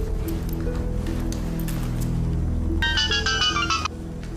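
A mobile phone ringtone plays in an Indonesian TV drama scene, a bright repeating melodic tone entering partway through over a steady background music bed, loud and close, with no talking over it.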